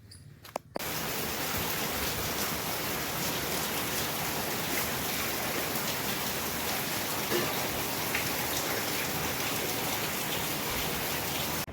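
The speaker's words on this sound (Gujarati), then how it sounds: "આપણે વરસાદ ચાલુ થઈ ગયો હતો" Rain falls steadily and heavily, a constant even hiss of drops on surfaces that starts suddenly and continues without letup.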